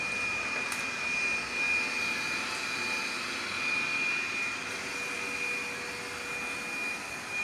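An AGARO Alpha robot vacuum cleaner running continuously with a steady whirring motor hum and a high-pitched whine, close and loud and unbroken throughout, with no speech.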